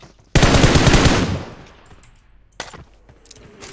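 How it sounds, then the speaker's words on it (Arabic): A burst of rapid machine-gun fire in the mobile battle-royale game PUBG Mobile, loud and close for about a second before decaying, followed by a fainter shot or two. "في طخ ورا؟"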